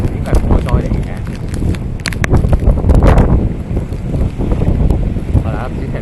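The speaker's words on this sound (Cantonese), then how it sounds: "大家唔知聽唔聽啲風聲啊？" Gusty wind roars and buffets the microphone outdoors, rising and falling in loud rumbling bursts, with background voices mixed in.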